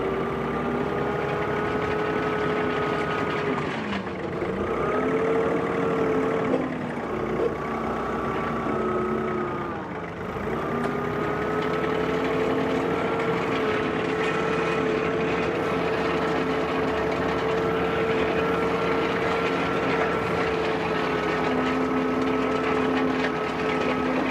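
A John Deere 3046R compact tractor drags a land plane over a driveway of two-inch rock, its diesel engine droning steadily and close, with brief dips in engine note as the load shifts.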